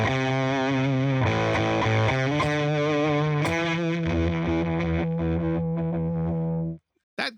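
An electric guitar with distortion pushed harder into a fuzzy, saturated tone plays loud chords that ring and sustain, then stop suddenly near the end.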